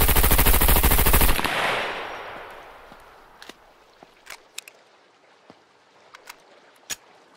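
MP5 submachine gun fired in the survival game SCUM, a loud rapid automatic burst lasting over a second that cuts off into a fading echo, followed by scattered faint clicks and footstep-like taps.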